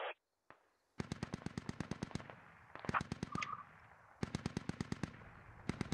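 Heavy machine gun fire in the tactical video game Squad, long rhythmic bursts of loud evenly spaced shots with a brief lull and a distant tone, then another burst, without voices.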